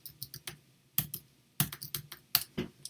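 Computer keyboard keys typed in short bursts of crisp clicks with pauses between, close and fairly quiet, no voices.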